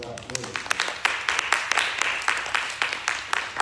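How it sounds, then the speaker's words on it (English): Applause of praise from a church congregation at the close of an evening Bible study, a run of scattered, fairly loud hand claps with shouts and voices mixed in. "give the Lord Jesus Christ a hand clap of praise"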